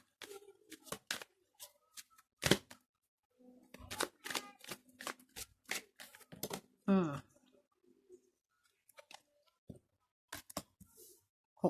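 Tarot cards are shuffled and laid down in a quiet room, giving crisp scattered flicks, riffles and taps, some sharp and close, with someone speaking softly in between.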